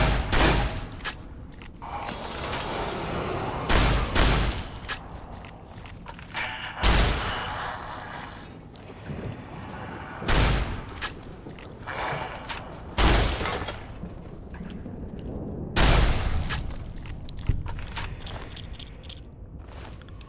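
Shotgun blasts in Fallout New Vegas, the Dead Money add-on, firing as loud isolated booms spaced a few seconds apart, each followed by mechanical reloading clatter and ambient game noise.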